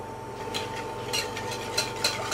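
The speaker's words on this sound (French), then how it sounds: "Au bain-marie, on va mélanger le jus de citron et le sucre." Lemon juice and sugar being stirred together in a bowl over a bain-marie for a lemon tart, a soft scraping stir repeating every half second or so over a steady low hum, close and fairly quiet.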